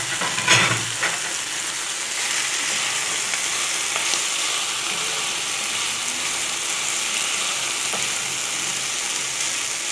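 Shrimp and onions frying in a pan make a steady, close sizzle with a few faint stirring clatters.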